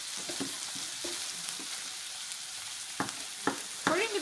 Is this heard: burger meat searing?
yes